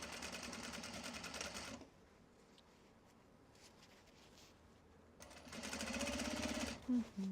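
A sewing machine runs a line of stitches through the exterior denim of a Japanese-fabric belt bag in two quick bursts of rapid mechanical whirring, separated by a few seconds of near silence.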